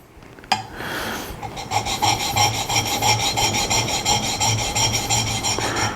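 Steady rasping scrape of a Narex chisel sharpened back and forth on a stone to raise a burr, close and continuous, a brief scrape at first and then several seconds of rhythmic strokes.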